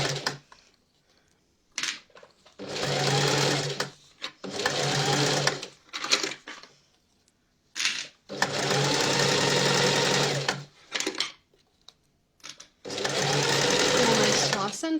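Sewing machine stitching a children's coat hood in several bursts of rapid, close mechanical whirring, stopping and restarting between short pauses, with a person talking in between runs.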